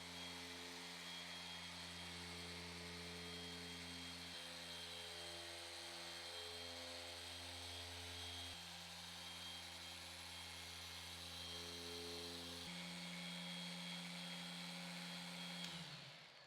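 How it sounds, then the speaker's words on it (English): A Flex PXE80 compact polisher hums loudly and steadily while polishing smaller parts of a Mercedes-AMG SL 63 during detailing, its motor tone stepping between speeds as the pad works. "For smaller parts, I use the PXE80 from Flex."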